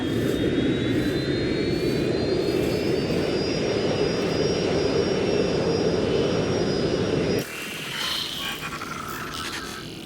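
A jet airliner in the game Watch Dogs Legion roars loud and steady with a rising whine for about seven seconds, then cuts abruptly to a quieter, different engine hum.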